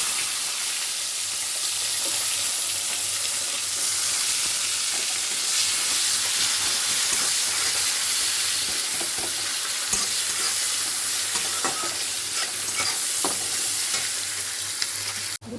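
Sliced onion with cumin, garam masala and a bay leaf frying in mustard oil, giving a steady, loud, close sizzle with occasional stirring clicks throughout, no voices.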